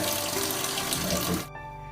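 Water streams steadily from a newly installed two-way faucet, a loud hissing flow that cuts off abruptly partway through, leaving a quiet room tone.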